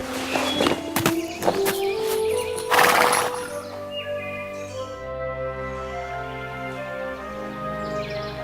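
A cartoon horse whinnies and clip-clops near the start, its hoofbeats and neigh sounding over an orchestral score that carries on alone afterward.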